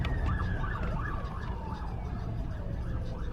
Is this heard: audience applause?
no